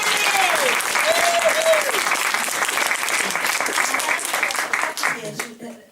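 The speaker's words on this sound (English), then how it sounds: "should we just give her a round of applause?" Sustained audience applause at an outdoor opening of a knitted flower pergola, dense steady clapping filling the clip with a few voices calling out over it, fading near the end.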